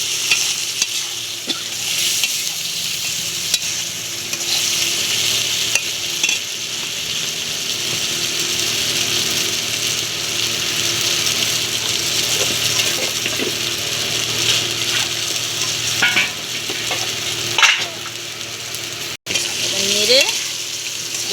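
Fried hilsa fish heads and taro are stirred in a pan, with steady sizzling frying under repeated scraping and clanking of a spatula against the metal, close and fairly loud throughout.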